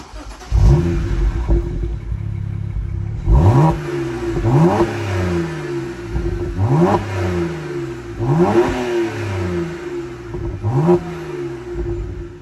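Collection BMW M sports car engine starting and revving repeatedly, loud sharp throttle blips rising and falling roughly every two seconds over a steady idle, close by with no talk.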